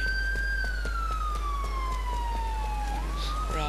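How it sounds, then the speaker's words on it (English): A police siren wails in GTA 4 with the LCPDFR mod, a loud, close, steadily falling tone that dips and rises again near the end over a constant low rumble. "Oh, stop blaring your sirens."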